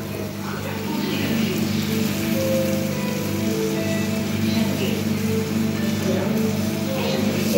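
Buttered bread fries on a hot tawa with a steady, even hiss and crackle, close and continuous, with a faint low hum underneath and no talk.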